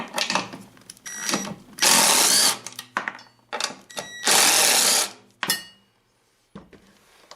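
A bearing is pulled from the auger of a Craftsman snow thrower in loud, close bursts of whirring power-tool and metallic grinding noise, broken by brief quiet gaps and ending with a few sharp knocks.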